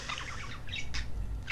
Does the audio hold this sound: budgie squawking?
yes